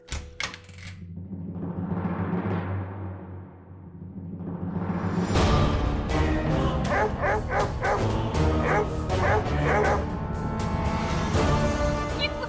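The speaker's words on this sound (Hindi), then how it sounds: "ये कुत्तों को क्यों लेकर आए हो?" Several dogs bark and yip indoors in a Hindi TV drama scene, sharp repeated barks coming in quick clusters over a busy room, close and loud, with whimpers mixed in.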